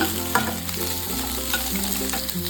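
Thick-cut capsicum and onion fry in a pan for restaurant-style kadai paneer, a close, constant sizzle with brief stirring scrapes and no talking.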